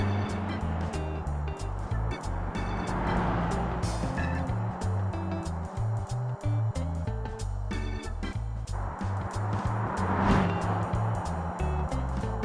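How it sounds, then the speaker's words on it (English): Engine of a car in the BeamNG.drive driving game accelerating hard at high speed, a steady loud drone with stepped tonal bands as it revs, continuous throughout with no talk. "Let's accelerate the car at high speed and see what it gets."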